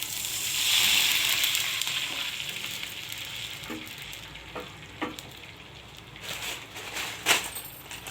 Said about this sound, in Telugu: దీంట్లో 1 గ్లాస్ వాటర్ పోసుకుంటున్నాను